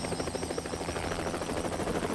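A helicopter in the video game Hitman 3 gives off a steady, fairly loud rotor chop and engine whine that continues without a break and with no talk.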